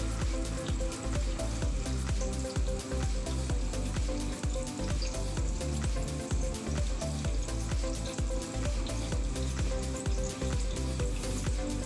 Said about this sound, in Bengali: একটু ভাজা ভাজা করে নেব। এই ভাজাটা গ্যাসের ফ্লেম মিডিয়াম রেখেই করছি।